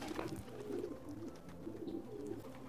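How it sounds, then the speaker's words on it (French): Pigeons coo softly and steadily through the short stretch of ambient game sound in Assassin's Creed 2, a low, repeated murmuring with no talk over it. "Oh les petits pigeons."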